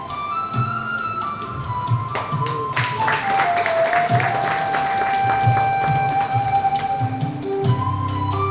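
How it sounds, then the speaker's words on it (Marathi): Audience applause at an award ceremony honouring achievers, steady clapping running throughout at a fairly loud level, with musical tones and a few voices mixed in. "चंदशेट्टी सरांचं देखील टाळ्या वाजून जोरात स्वागत व अभिनंदन करायचं आहे."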